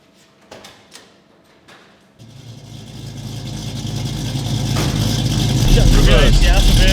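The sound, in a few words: Ford Mustang resto mod engine driving off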